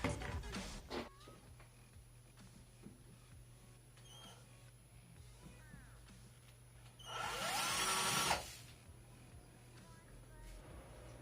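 Philco PPF02MF cordless drill-driver spins up in a short, loud whirring burst lasting about a second, surrounded by quiet handling clicks and faint room noise.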